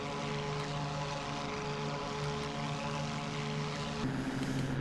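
A P-40 fighter's piston engine in IL-2 Sturmovik 1946 drones steadily throughout, a loud constant propeller hum whose pitch shifts slightly near the end, with no talking.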